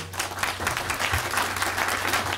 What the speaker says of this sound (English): all deserve a good round of applause